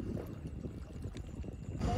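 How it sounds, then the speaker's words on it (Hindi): Water flows steadily in a calm outdoor spot, a continuous rushing wash with a faint voice briefly underneath. "बाकी तो पानी की आवाज़ आ रही फुल"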